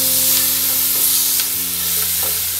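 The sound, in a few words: black pepper and salt roasting in a pan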